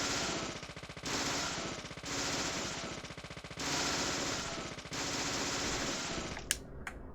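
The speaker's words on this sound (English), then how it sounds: "Maybe I need to shoot the padlock through the window to get in here." Rapid automatic gunfire in a video game, aimed at a padlock, firing in several long sustained bursts separated by brief gaps, ending with a couple of sharp single cracks, fairly close and harsh.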